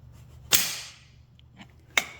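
The magneto on a 1950 John Deere BN tractor snaps and fires twice: a sharp metallic crack with a short ringing tail, a quiet pause with faint ticks, then a second crisp snap, close and otherwise quiet.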